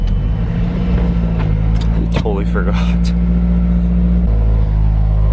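A Mazdaspeed 3 engine and exhaust drone at a steady low rumble from inside the car, holding one pitch and then dropping slightly near the end, while someone talks briefly over it.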